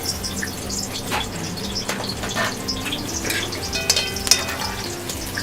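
Zucchini and eggplant deep-frying in oil in a restaurant kitchen make a close, steady bubbling hiss with scattered crackles and a few light clinks.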